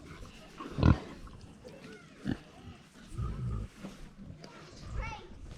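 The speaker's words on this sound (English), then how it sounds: "Because I think these are greedy little pigs." Pigs at a cider farm near Minehead grunt and snort as they eat ground-up apples, a few loud close bursts spaced among softer rooting noises, with people talking nearby.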